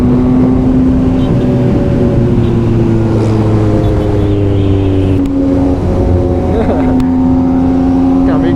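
A Yamaha MT-09 motorcycle engine with a quick shifter and auto-blip runs loud and close. Its steady tone steps abruptly in pitch at several gear changes, with brief rev blips between them.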